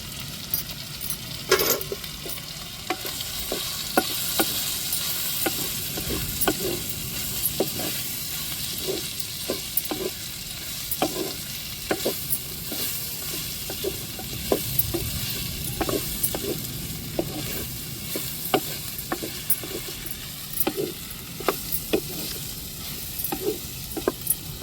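Chili, turmeric and pepper powder for a prawn curry sizzle steadily in hot oil in a pan, with frequent close scrapes and taps of a stirring spoon and no voices.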